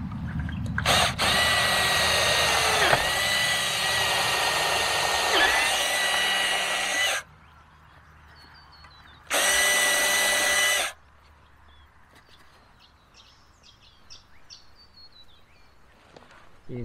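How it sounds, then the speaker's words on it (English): A power drill bores holes while an electric fence hot wire is being fitted, with two loud whirring bursts, a long one and a shorter one, separated by quiet handling noises and faint clicks. "So I'll drill this up"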